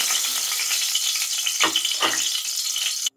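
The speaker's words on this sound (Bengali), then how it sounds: "তো ডিমগুলো লাল লাল করে ভাজা হয়ে গেছে" Eggs frying in hot oil in a pan, a steady bright sizzle with two brief sharper crackling surges partway through, cutting off abruptly at the end.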